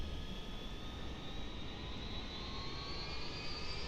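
A Cirrus Vision Jet engine spools up in the FlightFX flight simulator game, a faint steady turbine roar with thin whining tones slowly climbing in pitch.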